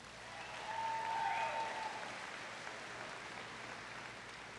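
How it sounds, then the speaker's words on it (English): Faint, steady applause from a large audience at a high school graduation ceremony honoring seniors, sounding distant and soft and swelling slightly before settling at an even low level. "Let's give a round of applause for these."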